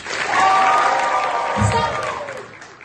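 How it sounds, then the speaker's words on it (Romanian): A theatre audience at a troupe's performance inside Arad prison claps and whoops in one sustained burst, with drawn-out cheering voices riding over steady, moderately loud applause that swells and then tapers off. "Deci aplauze și chiote."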